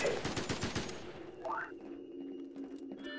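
A burst of rapid gunfire rattles at the start of a Garry's Mod SCP Foundation scene, then stops, leaving a low hum and a voice talking.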